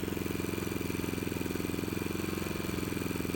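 A Westinghouse iPro4200 inverter generator runs steadily about five feet away, set off to the side of the exhaust, with a loud, even engine drone and rapid pulsing throb.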